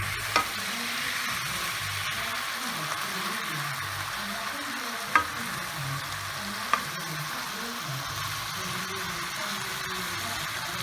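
Beef stew being stirred in a pot gives a steady, close frying hiss, with a few sharp clicks of the spoon against the pot scattered through it.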